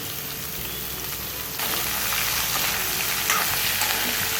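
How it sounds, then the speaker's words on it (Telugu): Curry leaves and carrot pieces frying in hot oil tempering, a dense continuous crackling sizzle that grows louder partway through as more goes into the pan, close and steady with no talk. "ఇది కొంచెం ఫ్రై అయ్యాక కట్ చేసి పెట్టుకున్న క్యారెట్ ముక్కలు యాడ్ చేసుకోవాలి"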